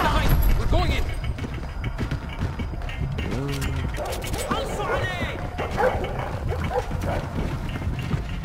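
Dogs in the stealth shooter Splinter Cell: Blacklist bark and yip repeatedly at mid distance, mixed with whimpers, over game ambience and mechanical noises while people talk.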